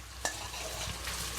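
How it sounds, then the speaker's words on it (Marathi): Marinated prawns fry in oil on a flat tava, giving a steady soft sizzle and crackle with a brief scrape or stir near the start. "आणि हे फ्राय करायला तव्यावर तसंच सोडून द्यायचं."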